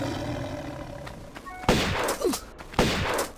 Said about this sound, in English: so grab your shotgun. And it should take 2 shots if you let it get kind of close